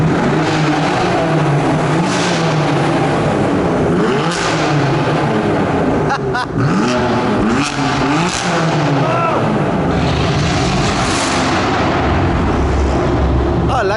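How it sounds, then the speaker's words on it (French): Mercedes S-Class with oversized exhausts accelerating hard at the Top Marques 2018 show, a loud continuous roar with rising engine sweeps and sharp crackles, close and dense throughout. "Ah, l'accélération de la classe S."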